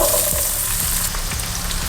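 Chopped onion frying in hot oil with cumin and mustard seeds for tomato upma, a steady loud sizzle with stirring scrapes throughout, no talking.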